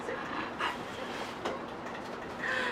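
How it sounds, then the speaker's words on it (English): A young female Siberian Husky pants softly and lets out a few brief, faint whimpers nearby over a low background hum. "She's my Siberian Husky."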